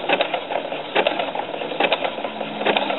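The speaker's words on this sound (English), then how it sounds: "You see how slow my machine is advancing?" A sewing machine slowly satin stitching thread over a fabric bar: a quiet, steady mechanical whirr with regular clattering pulses roughly every second, heard up close with no talk.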